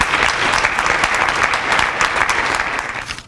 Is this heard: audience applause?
yes